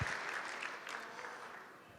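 Audience applause at a charity gala, a short stretch of steady hand clapping from a crowd, faint and fairly distant.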